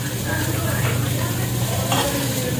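Ginataang kalabasa, squash in coconut milk, is stirred in a pot over heat, giving a steady bubbling sizzle with soft scraping strokes and faint background voices.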